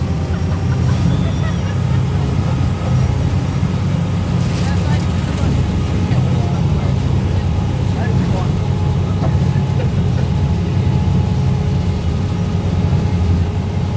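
An amphibious duck tour boat runs on the water in Chattanooga at full speed, its engine a loud, steady, close drone that continues without a break throughout.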